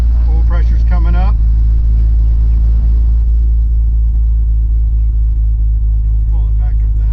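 An aircraft piston engine idles at about 1,000 RPM with a loud, steady low rumble that runs throughout, and a voice speaks briefly near the start.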